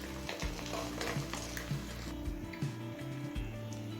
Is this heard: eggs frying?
yes